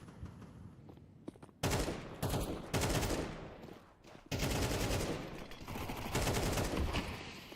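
Rifle gunfire in a Counter-Strike match crackles in loud bursts of rapid automatic fire, starting sparse and becoming dense sustained volleys after a couple of seconds, with no talk over it.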